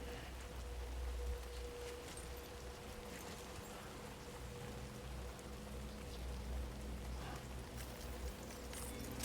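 Steady timefall rain pours down across a Death Stranding 2 game landscape, a continuous dense patter with a low rumbling bed underneath, even in loudness throughout and without voices.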